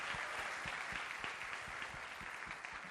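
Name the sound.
audience applause for sign language interpreters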